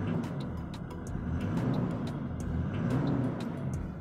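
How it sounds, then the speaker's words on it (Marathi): A car engine revs in neutral as the accelerator is pressed, a low rumbling hum swelling and easing at moderate volume without any voices. "अशा पद्धतीने गाडी रेस होते आपली"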